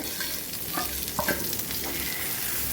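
Masala stirred and sautéed with fried eggplant in a single spoon of oil for a Kathiyawadi-style brinjal shaak, giving a steady close sizzle broken by soft scraping stirs, with no talking.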